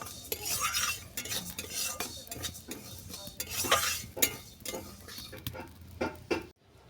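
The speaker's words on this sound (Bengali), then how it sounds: "চলো এক মিনিটের মতো ভাজা হয়ে গেছে ডালটাকে আমি নামিয়ে নিচ্ছি" Repeated scraping and stirring of dry fried lentils in a pan, brisk rhythmic strokes with light sizzling, ending abruptly.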